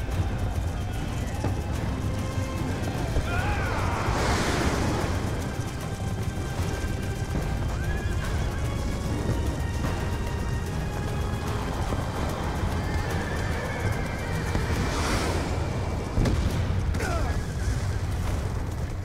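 In the Black Ops 2 video game, a horse whinnies several times over rumbling hoofbeats and game effects, while a player talks throughout.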